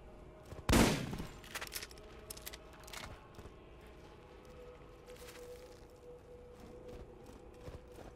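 Gunfire in the shooter game Borderlands: one loud, sharp burst near the start, then scattered lighter shots and clicks over a steady game background, with no talk.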